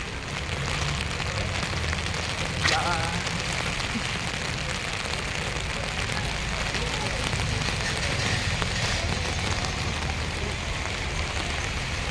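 Constant light drizzle pours down close by on a Hassan shopping street, an even hiss of drops on surfaces that barely changes from start to finish.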